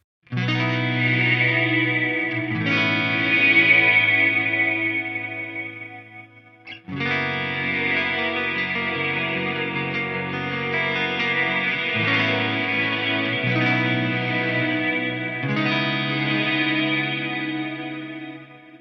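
An Eventide H9 effects pedal runs a filter with its resonance turned right up, giving sustained, swirling tones with chorus-like and distorted edges that shift in several sections, loud and steady throughout, with no talk.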